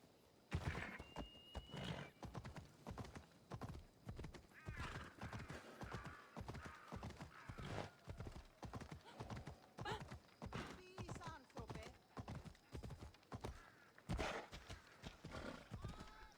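Horse hooves clip-clop in a steady rhythm with repeated neighs and whinnies from a red-eyed horse in the video game Assassin's Creed Odyssey, close and loud throughout, joined by occasional thuds.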